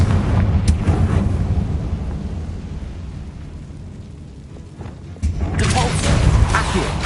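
Fiery Confringo spell blasts in the Hogwarts Legacy video game, a loud rumbling explosion that fades over several seconds before a second burst swells near the end, with dense low booming throughout.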